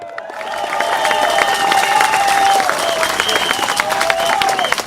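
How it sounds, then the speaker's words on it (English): A large crowd claps and cheers at an outdoor election rally for the Progress Singapore Party in Marymount, swelling in and holding loud and sustained. "Can we have one more round of applause?"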